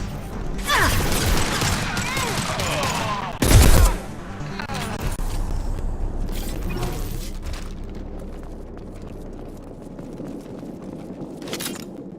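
High-impact gunfire from the video game Mass Effect 2: a rapid burst of shots opens, a heavy booming blast follows, and scattered impacts and mechanical clatter trail off amid faint in-game voices.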